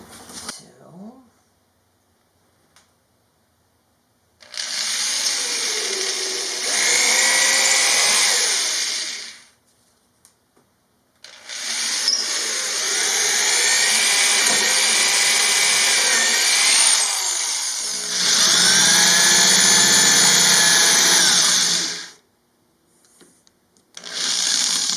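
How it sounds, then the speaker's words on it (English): A power drill bores holes into a wooden board for an RV workbench, running in several long, loud, whining bursts separated by short pauses. "Okay, so I drill my hole."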